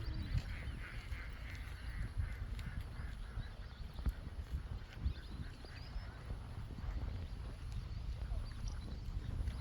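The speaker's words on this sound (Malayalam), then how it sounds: "ഒന്നിനു പുറകെ ഒന്നായി വരിവരിയായി നീന്തിപ്പോകുന്ന താറാവുകൾ" Ducks swimming in a line at the Kaipuzha sunset viewpoint give faint, scattered honking calls over a steady outdoor background, heard from a distance with no talking.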